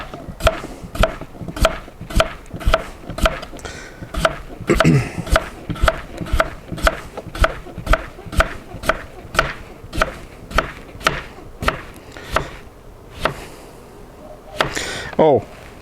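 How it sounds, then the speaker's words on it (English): A knife chops potatoes on a cutting board in steady, crisp thuds, roughly two per second, close and loud, with a person talking over the cutting at times. "so we'll keep cutting these"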